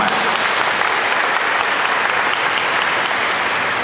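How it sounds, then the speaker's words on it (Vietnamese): A church congregation at a Mass for the Nativity of the Virgin Mary bursts into steady, dense applause, loud and close throughout with no pauses. "cộng đoàn chúng ta vỗ tràng pháo tay thật lớn chúc mừng Lê Dô Ma Vie nhân ngày bổn mạng"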